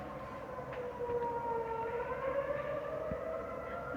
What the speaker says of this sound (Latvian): Protams, nav patīkami tādas sirēnas dzirdēt.